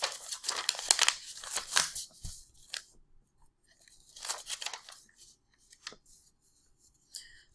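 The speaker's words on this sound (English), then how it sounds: "I'm going to fold my paper a little bit." A sheet of paper is folded by hand at a desk, giving crisp crinkling and rustling bursts in two main clusters separated by near silence, with a few softer creases near the end.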